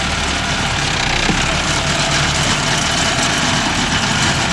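A Mahindra Arjun Novo 605 DI tractor working with a Bharat baler rolling groundnut produces a loud, steady diesel engine roar that runs continuously and close up throughout.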